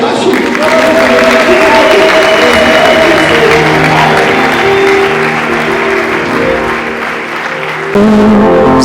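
A church congregation at a prayer service applauding loudly and steadily for several seconds, with voices and crowd murmur mixed into the clapping.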